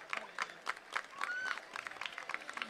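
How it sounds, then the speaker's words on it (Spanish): Audience applause for the mayor at a Christmas event in Gáldar, a scattered patter of clapping from a crowd with brief cheering or voices, fairly quiet and uneven throughout. "un aplauso para el gran alcalde que tienen ustedes"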